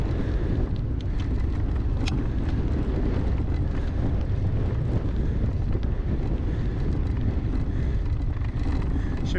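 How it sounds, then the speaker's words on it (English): Strong northeast wind buffets the microphone during a bicycle ride under threatening storm skies, a continuous loud low rumble and roar with gusty fluctuations throughout. "Now the wind is blowing directly at me."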